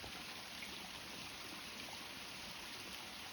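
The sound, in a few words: running water of a river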